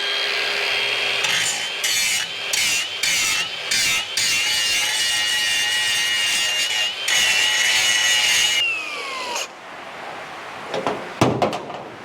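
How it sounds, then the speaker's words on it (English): An angle grinder grinds a steel face clean before welding during Ford Transit van repair in a farm fabrication workshop, a loud steady whine broken by short pauses before winding down, followed by a few light knocks. "I'm just going to grind that first, just going to grind that face down clean, because obviously it can't weld on a dirty surface."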